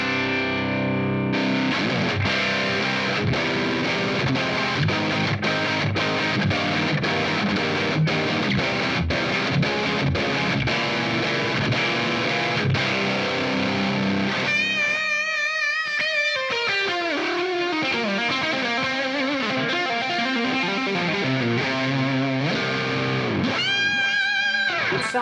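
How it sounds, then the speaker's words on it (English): An electric guitar runs through the B side of a Fender Pugilist distortion pedal with the bass boost off, giving thick, high-gain sustained chords and then singing single notes and bends, played alone. "Now let's engage the B side of the pedal without the bass boost first."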